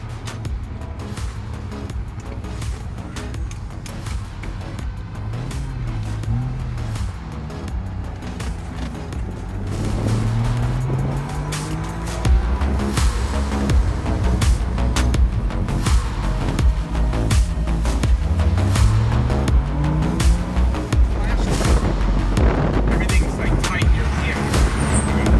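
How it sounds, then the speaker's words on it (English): A 1967 Saab 96 with a three-cylinder two-stroke engine drives around town, its engine droning and shifting through gears close up with road rumble, while a person talks over it. "we're gonna show you what this car looks like on the road, driving around town"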